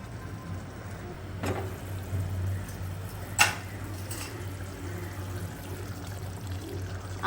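Water poured into a pot while rinsing ingredients for a chicken egg roast, a soft steady trickle and pour with a few small clinks, moderately close and fairly quiet.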